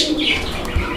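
Fancy pigeons coo and chirp briefly inside a loft, making a short burst of close, soft calls.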